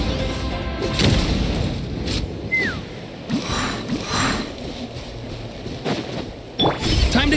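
Cannon fire and explosions in the game Genshin Impact: several dull, booming blasts land at irregular intervals over a rushing, wind-like bed, with one short rising whistle between them.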